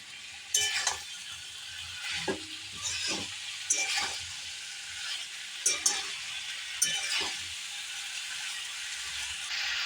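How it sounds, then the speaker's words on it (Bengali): A spoon stirs fried vegetables for shukto in a pan, with soft scraping and clinking strokes repeating every second or so over a faint, low sizzle. "সবজিটাকে নেড়ে চেড়ে নিয়েছি সব একসঙ্গে"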